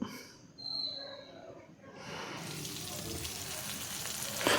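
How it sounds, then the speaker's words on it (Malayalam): Lobster tail grilling in oil on a tawa gives a steady broadband sizzle that builds up partway through and keeps going, close and moderately loud, with faint talk underneath. "ഈ ടൈല് ലോബ്സറിൻ്റെ ടൈല് ഞാൻ അതിലേക്ക് ഗ്രില്ല് ചെയ്യാൻ വേണ്ടി വെച്ചിട്ടുണ്ട്"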